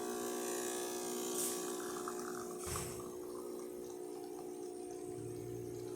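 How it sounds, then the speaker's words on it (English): An old DeLonghi Magnifica espresso machine's water pump runs with a steady, close electric buzz and hum that holds constant throughout, carrying a faint watery gurgle and no talk. "This sound coming from the water pump. It's really old but still strong"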